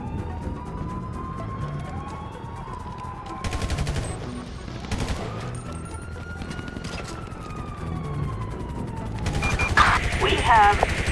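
Gunfire during a police chase in a video game, with loud bursts of rapid shots standing out over a wailing police siren and steady engine and chase noise.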